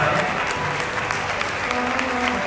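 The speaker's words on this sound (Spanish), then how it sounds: "Vamos a tomar un aplauso para él." An audience at a Tehillim concert of rabbis singing psalms breaks into dense, sustained applause, loud and steady throughout, with a faint murmur of voices mixed in.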